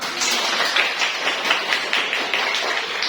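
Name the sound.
applause for the first group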